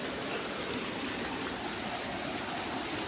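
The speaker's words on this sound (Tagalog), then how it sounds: "Yan ang falls. Dito tayo sa malaking falls." A large waterfall with murky water, a steady broadband roar of rushing, crashing water, loud and unbroken throughout.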